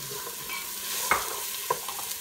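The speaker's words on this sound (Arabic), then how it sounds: "سخنت زيت العود، غادي ندير هاد البصله والثومه يتشحروا مزيان" Onion and garlic frying in hot oil in a pot, a soft steady sizzle with a couple of sharp scraping stirs of a utensil, close up and with no talking.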